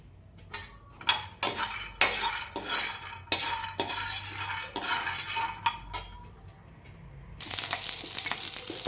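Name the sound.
peanuts roasting and stirred in a pan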